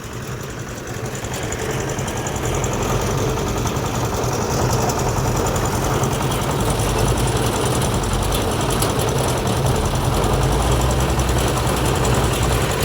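A tractor engine runs continuously with a steady rumble, low mechanical throb and rattling vibration, loud and close throughout, on soft ground.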